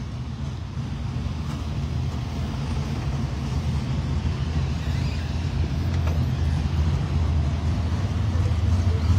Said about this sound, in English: Big Country trying to get out of here in the big rig